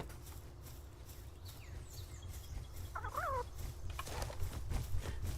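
Chickens in the video game Palworld cluck and squawk in a couple of brief, faint calls over steady game background noise, with no talking.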